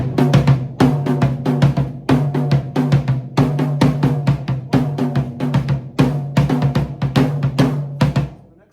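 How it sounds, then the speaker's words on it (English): Drum kit playing a song intro without the bass drum: rapid, loud, close snare and tom strokes in busy repeating patterns with cymbal wash and brief gaps between phrases, no talking. "I'm going to play it without the bass drum so you can hear what I'm doing"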